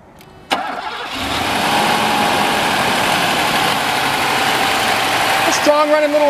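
A 1987 Mercedes-Benz 560SEC engine cranks loudly, catches, and settles into a steady, strong idle close by, then drops off near the end.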